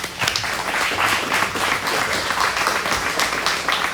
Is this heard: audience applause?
yes